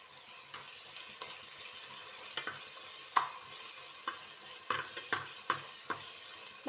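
Green chilies and ginger fry in coconut oil for a Mangalore-style fish curry, a constant soft sizzle with irregular stirring taps and clinks against the pan.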